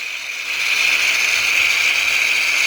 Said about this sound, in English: The jet spray